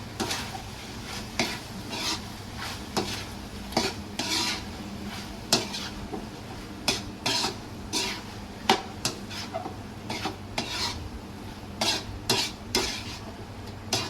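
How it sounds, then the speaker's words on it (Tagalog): Tofu sisig is stirred in a frying pan over a soft sizzle, with repeated scraping strokes of the spatula against the pan in an uneven rhythm. Close and moderately loud, with no voices. "Haluin, haluin ng haluin."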